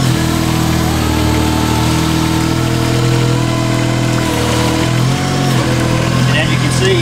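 An ARMEX aquatic vegetation harvester's engine drones loudly and steadily while the machine backs up on a pond, with a constant mid-pitched rumble and slight shifts in tone throughout.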